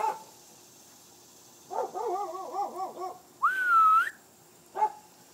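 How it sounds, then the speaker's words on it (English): Dogs bark and yip in short bursts at moderate distance, with a rising whistle-like whine between them and a final single bark. "Dogs are gonna bark."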